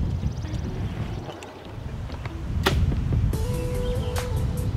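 An arrow released from a bow outdoors in wind strikes a bison-shaped target with a single sharp crack near the middle, set against gusty wind noise and a faint whistling tone.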